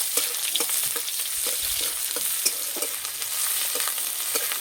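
Sliced onion tipped into hot oil with fried crushed garlic and dried red chilli, sizzling steadily for Bengali dal palong, with repeated close scraping stirs of a spoon over the continuous crackle.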